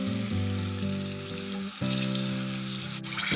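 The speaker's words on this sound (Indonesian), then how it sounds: "Goreng buncis dengan menggunakan api besar." Green beans fry in oil over high heat, a steady, dense sizzle running throughout with a tonal melody underneath and a brief louder crackle at the very end.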